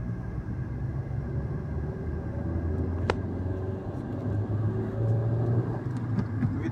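A car on a driving lesson pulls away in second gear and accelerates, its engine giving a steady, close low rumble that swells slightly toward the end, with no one talking.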